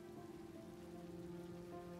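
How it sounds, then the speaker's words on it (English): Steady rain falling on surfaces in the video game Road 96, a continuous soft patter with a low tonal hum of music or ambience underneath, no voices. "Let's wait out the rain in the booth."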